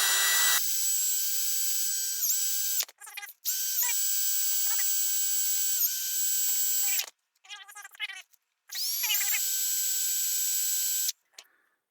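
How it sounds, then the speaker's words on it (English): A small power-driven wire wheel cleans out a hole in an antique Parker parallel swivel vise, giving a loud, steady high whine in long runs broken by brief grinding contact bursts and pauses. "we're going to use the same process with a smaller wire wheel to clean that out."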